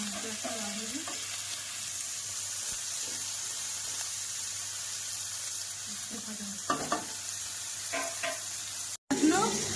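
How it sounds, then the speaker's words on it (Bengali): Chopped onions frying in oil until browned for a chicken and capsicum curry, a steady hiss of sizzling under occasional stirring scrapes, close and fairly quiet, with a brief cut near the end. "এবার পেঁয়াজটা লাল হওয়া পর্যন্ত ভাজবেন আপনারা।"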